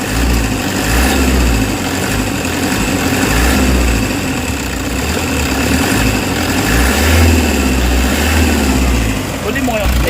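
A Toyota HiAce engine with low power and throttle delay revving steadily, a continuous loud drone with slow swells in pitch, while someone talks over it.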